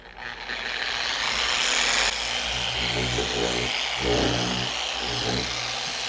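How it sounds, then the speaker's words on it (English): A 3-inch orbital polisher working the paint of a 2022 BMW G80 M3 Competition xDrive during a finishing polish, a close, steady motor whir with slight pitch shifts as it moves across the panel. "this 3-inch polisher, I just love it. It's just so easy to use."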